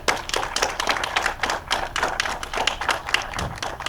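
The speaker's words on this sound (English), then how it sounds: "How about we just give iFalls Nice a nice round of applause?" A concert audience gives a round of applause for a sponsor at a weekly Wednesday outdoor concert event, a loose, uneven patter of nearby hands clapping with sharp individual claps standing out, steady throughout.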